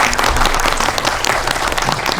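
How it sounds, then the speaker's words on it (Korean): An indoor audience at an indie film talk event claps together for an award-winning actress, a dense, continuous burst of applause with no voices over it. "저희 축하 박수 한번."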